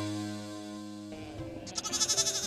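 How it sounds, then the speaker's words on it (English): Welsh sheep bleat in a noisy burst near the end, several rapid calls rising over a steady tonal background, fairly close and loud. "They are Welsh sheep, noisy but very hardy."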